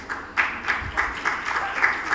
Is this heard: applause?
yes